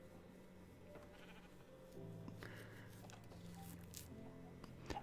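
Sheep bleat in the Minecraft video game, a few wavering nasal calls over a faint steady game background, quiet and mid-distance, with no talking.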